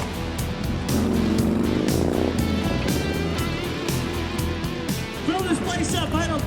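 Motorcycles rumbling into the Sturgis saloon during the rally, with engine revs and a loud, steady roar of bikes filling the space, heavy crowd talk mixed underneath.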